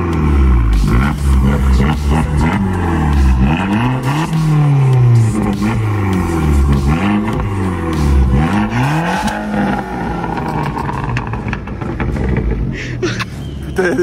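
An Abarth 595 Competizione engine revs hard nearby, its pitch repeatedly climbing and dropping in rapid blips before the revving settles toward a rougher idle.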